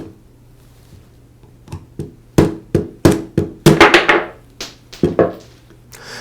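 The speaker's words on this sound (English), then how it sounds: "use the screwdriver to tap the brush holder out" A screwdriver tapped to drive a brush holder out of a Porter Cable router's motor housing, a series of sharp metallic knocks in irregular clusters, close and loud against a quiet background.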